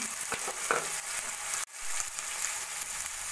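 Shredded carrot, capsicum and cabbage stir-fried for veg hakka noodles, a loud, continuous hiss of sizzling with spatula scrapes, briefly cutting off mid-way before resuming.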